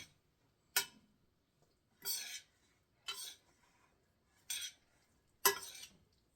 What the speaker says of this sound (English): Let me mix this up a little bit.